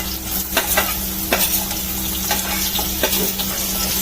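Onion and crushed garlic fry loudly in a pan, with a dense close sizzle, a low steady hum beneath, and repeated sharp scraping strokes as the mixture is stirred; no voices.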